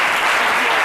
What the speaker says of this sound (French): Bravo, on vous applaudit très fort